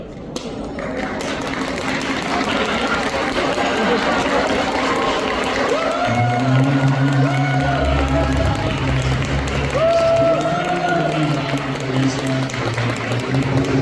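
Wedding guests clap loudly as the groom makes his entrance, with dense sustained applause from a large crowd filling the hall while music and voices rise over it.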